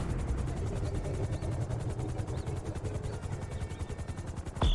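Droning plane engine in GTA V, a steady pulsing buzz with rapid rhythmic beats, loud and continuous throughout, with a brief swell at the very end.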